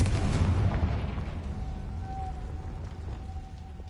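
A Confringo spell explosion from Hogwarts Legacy booms loudly at the start, then its rumble decays over a few seconds with a faint high tone lingering.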